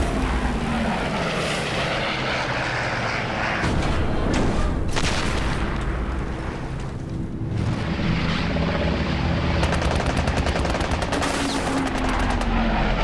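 Loud, continuous bursts from six Browning machine guns on a P-51 Mustang rattle over a droning aircraft engine, dense and unbroken throughout.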